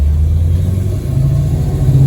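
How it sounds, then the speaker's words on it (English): Dodge Daytona with a modern 6.4 Hemi engine on the move: a loud, deep, steady engine rumble heard from close by, swelling slightly toward the end, with no one talking. "Brian and I are going to go for a spin in his Dodge Daytona."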